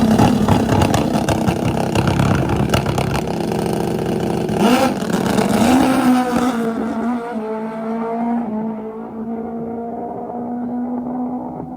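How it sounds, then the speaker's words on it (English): Drag racing motorcycle engine running rough on the strip, a loud ragged roar that breaks up and sputters, then settles into a steady whining drone that fades as the bike moves off. "That motorcycle doesn't sound like it's running right at all."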